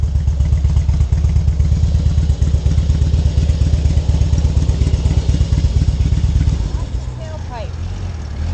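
A motorcycle engine idles close by with a rapid, steady thumping putter that clatters along, then drops off near the end as a voice speaks briefly.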